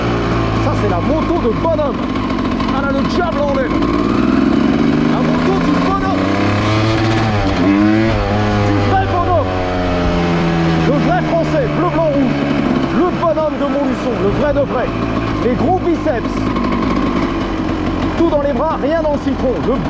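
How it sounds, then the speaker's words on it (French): A CR motorcycle engine runs loud and close, its pitch rising and falling through repeated revs, with voices talking over it. "Ça, c'est la moto de bonhomme. Elle a le diable en elle."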